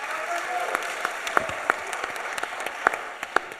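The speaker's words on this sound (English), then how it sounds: "You guys can clap for each person if you like" An audience at a London Web3 and crypto conference applauds in a steady wash of clapping, with a few sharper individual claps standing out and a voice talking through it.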